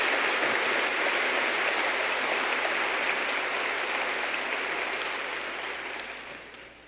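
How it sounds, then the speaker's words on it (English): Applause from a large audience at a general session, steady dense clapping throughout that slowly fades out toward the end. "Let's give one more great round of applause to the Gage family."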